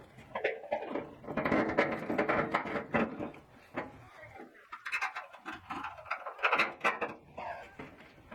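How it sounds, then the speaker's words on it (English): Hand ratchet tightening bolts on new wheelbarrow handles during a handle replacement, heard as a close run of quick clicking and mechanical patter, fairly quiet, with short pauses between bursts and no talking. "Then add the stand to the bottom of the wheelbarrow and tighten the bolts down."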